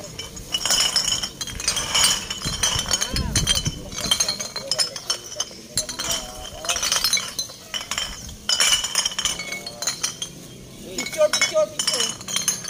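Donated glass bottles and cans are handled in a loose pile, clinking and clattering repeatedly in uneven bursts, with people talking nearby and outdoor background noise throughout.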